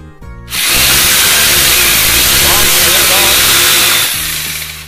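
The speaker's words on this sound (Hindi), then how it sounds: "तो छोटा छेद करना भैया, ज़्यादा ड्रिल नहीं करना, हल्का सा छेद करेंगे हम।" A Next-brand hammer drill bores a small hole into a wall to mount a Havells I-Cool 175mm personal fan, a loud steady grinding whine that starts abruptly after half a second and runs continuously before easing off near the end.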